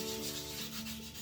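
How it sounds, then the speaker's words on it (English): Hand sanding of a dishwasher front with 150 grit sandpaper in a swirl pattern, a soft continuous rubbing scrape over a brief moment, quiet and close. "I'm going to sand the front and the two sides because that's what we're painting."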